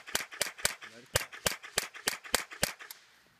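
Rapid gunfire at a shooting range: about a dozen sharp, loud shots in quick, fairly even succession over three seconds, close to the listener, ending in a brief quiet tail.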